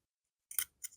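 Two quick, crisp snips of scissors trimming a fabric corner close to the seam of a zipper shoulder bag, the second softer than the first, with silence before them.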